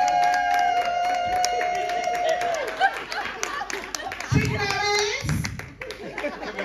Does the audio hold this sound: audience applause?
yes